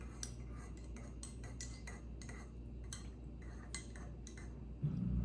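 Spoon clinking and scraping inside a glass while a ginger detox drink is stirred, a run of quick light metallic ticks and chinks close by, ending in a brief low thump.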